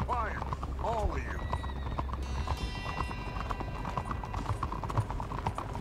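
Horse hooves clip-clop steadily throughout from a white horse in Red Dead Redemption 2, with a brief whinny at the start, under a busy layer of music and game sounds.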